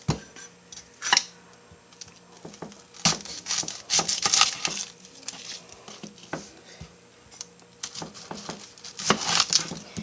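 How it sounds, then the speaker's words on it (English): A knife chopping through one large onion, with irregular crisp cuts and soft squishy crunches, plus a few louder clustered chops, up close and with no talking. "you just want to cut your onion up like this"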